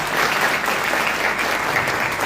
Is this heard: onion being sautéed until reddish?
no